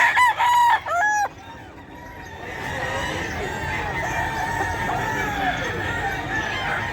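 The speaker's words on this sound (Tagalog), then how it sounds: "mga dalang manok ni Boss Joey." A rooster crows loudly nearby at the start, then a steady hubbub of clucking and distant crowing fowl carries on behind it at the Bocaue poultry market.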